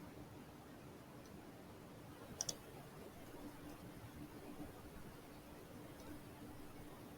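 A computer mouse gives a quick double click while CAD software is in use, faint and close against a quiet room hum.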